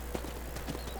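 Horse hooves clip-clopping in the Western video game Red Dead Redemption on a ranch, a quick run of soft, evenly spaced hoof beats over a steady low background hum.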